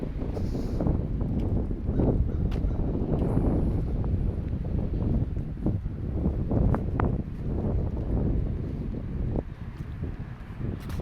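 Strong gusty wind buffets the microphone in a constant low roar, swelling and easing over several seconds, with no voices.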